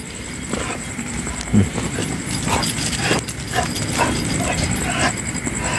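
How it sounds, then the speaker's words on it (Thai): A dog barks and whimpers among steady background noise, with a few sharp yelps and soft clopping sounds scattered through the few seconds. "ไม่ต้องเห่า ไม่ต้องเห่า"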